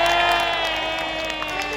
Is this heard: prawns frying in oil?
no